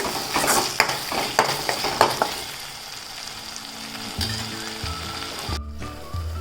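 Goda masala roasting in oil with fresh coriander while being stirred: a steady sizzle with several sharp scrapes and taps of the spoon early on, then a quieter, settling fry.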